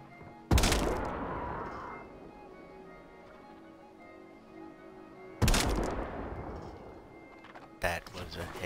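Video game gunfire landing a headshot: a loud, sharp shot followed by a long decaying rumble, a second similar blast about five seconds later, and a shorter crack near the end, with quiet stretches between.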